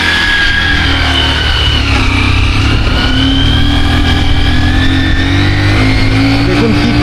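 A motorcycle labours up the steep, rough Parasnath hill road in first gear, its engine droning loud and close with a slowly rising and falling pitch throughout.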